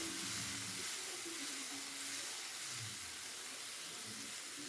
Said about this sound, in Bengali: পেস্টটা দিয়ে ভালো মতো কষিয়ে নেবো খানিকক্ষণ নেড়ে চেড়ে